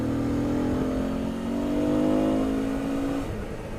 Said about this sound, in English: the engine braking of this bike just does so well